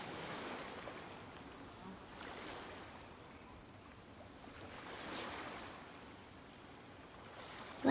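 Steady wash of video game ocean surf from Genshin Impact rising and falling in slow swells, a soft continuous rush with no voices.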